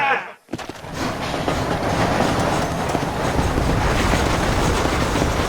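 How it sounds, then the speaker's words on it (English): A steam train running in the Red Dead Redemption video game, a loud continuous roar of wheels and rattling cars with rhythmic clatter, following a brief sharp burst and momentary drop at the start. "You have to go out there and stop the train before it crosses the bridge"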